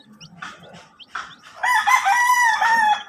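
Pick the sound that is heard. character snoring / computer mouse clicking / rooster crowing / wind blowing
rooster crowing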